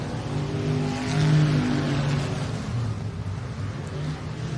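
A race car runs at Pike County Speedway during the Jambalaya 100, a steady, loud engine drone with a slight swell in revs, heard alone without talk.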